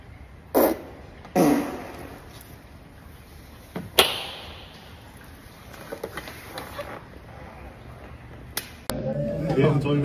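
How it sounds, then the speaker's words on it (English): Several short, sharp fart-like bursts separated by quiet gaps, followed by a stretch of low rustling and a louder, sustained noisy passage at the end. "Guess my fart."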